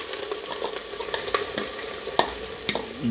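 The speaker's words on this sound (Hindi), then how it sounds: "जो मैंने ये प्याज काट रखी थी देखिए ये इसमें डाल के गोल्डन फ्राई कर लेना है" Chopped onions fry in hot oil inside a pressure cooker, giving a steady close sizzle with scattered crackles and pops, plus a few louder spoon scrapes and stirring knocks, with no talking.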